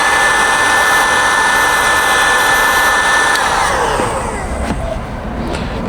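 Heat gun warming a vinyl door skin on a 2011-2018 Jeep JKU gives a loud, steady, close blowing whine that holds constant, then eases slightly as it moves near the end.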